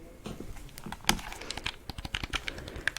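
Rapid clicking of buttons on an Xbox 360 controller, a close, crisp series of irregular plastic clicks and taps heard alone.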